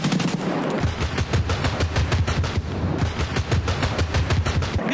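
Rapid automatic gunfire in Escape from Tarkov rattles out in loud, dense, continuous bursts of close shots, hardly pausing from start to finish.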